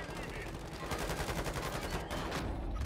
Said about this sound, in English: Yeah, I'm getting shot from behind as well.